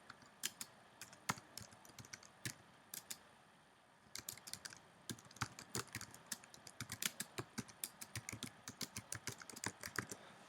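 Keystrokes on a computer keyboard while entering notes into a literature review matrix, close and crisp, in irregular bursts with a brief pause near the middle, no talking.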